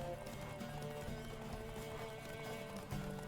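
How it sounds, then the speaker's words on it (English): Horse hooves gallop in a rapid, steady clip-clop during a race in The Witcher 3: Wild Hunt, up close and continuous beneath a constant hum of game music and ambience. "Oh, his horse is slowing down."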